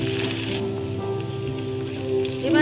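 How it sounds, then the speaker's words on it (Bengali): Beans cook in a pan on the stove with a steady hiss of sizzling and a low background hum. The high sizzle drops back as the lid comes off, and stirring scrapes build near the end. "ঢাকনাটা খুলে একটু নাড়াচাড়া করে দিচ্ছি"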